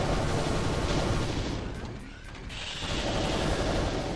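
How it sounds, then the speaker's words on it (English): A plasma rifle fires in Doom on a map called Three's a Crowd, loud dense blasts blending into a continuous roaring wash of battle noise, with a brief dip in the middle before resuming. "this would kind of be a good place to use the plasma rifle"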